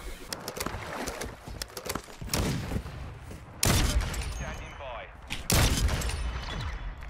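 Gunfire in a Call of Duty Search and Destroy match, with bursts of shots scattered through the scene and two loud, sharp blasts standing out near the end, while players talk over the action.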